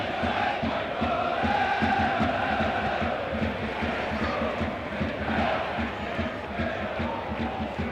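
A large home football crowd at Plymouth Argyle, during a Championship match against Bristol City, keeps up a loud, steady roar of chanting and cheering that barely dips across the whole stretch.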